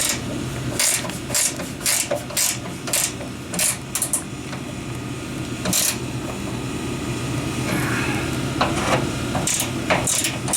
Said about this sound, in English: And the bolts to tighten up are over here someplace.